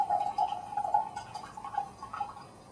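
Formosa oolong tea pours from a small teapot into a cup as a thin, steady trickling stream that breaks into light drips, close and fairly quiet.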